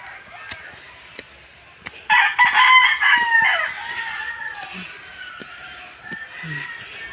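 A rooster crows loudly up close in a long, ringing call, with softer hen clucks scattered before and after against a quiet outdoor background.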